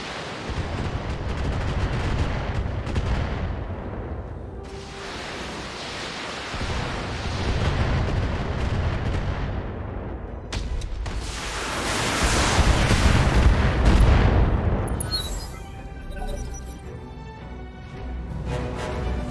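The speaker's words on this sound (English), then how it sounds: "And now all the turrets will do all the shootings." Turrets firing in the mech combat video game BattleTech, a dense barrage of loud, overlapping booming shots and rumbling impacts that swell and fade in waves across the scene.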